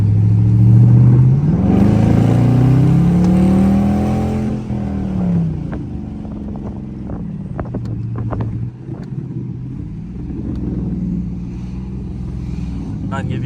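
A Dodge Charger engine revs up loudly with a rising exhaust roar, then settles into a lower rumble as the car cruises, with wind buffeting the microphone.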